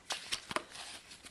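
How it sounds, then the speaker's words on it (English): Oracle cards being shuffled by hand, a few short papery riffles and slaps close up with quiet pauses in between. "These are kind of a bit more difficult to shuffle actually than the angel cards."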